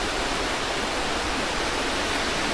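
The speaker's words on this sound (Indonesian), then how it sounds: "Ada anak sungai kat bawah ni." A small stream flows below a campsite in Tanjung Malim, its steady, dense rushing close and loud for a few seconds with no voices.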